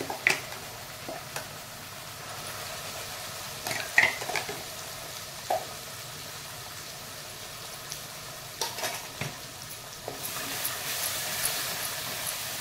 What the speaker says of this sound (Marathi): वाटण चांगलं 2 मिनिटं परतून घ्या.